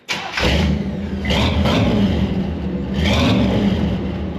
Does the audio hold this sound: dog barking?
no